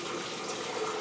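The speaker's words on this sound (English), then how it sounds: "Now I'm just going to finish filling up my canner" Water runs steadily from a tap into a large canner, a soft continuous hiss and splash close by with no voices.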